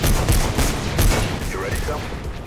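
Rapid bursts of gunfire in the video game Mirror's Edge, loud and dense with repeated sharp cracks, mixed with a voice talking over it.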